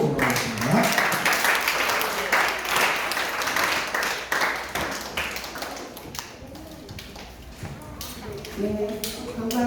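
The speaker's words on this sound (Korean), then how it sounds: "우리 조무 선생님 나오실 때 큰 박수로 인정하겠습니다" Applause from a children's congregation at a Sunday church service, dense clapping filling the room for several seconds before thinning out as an adult voice talks over it.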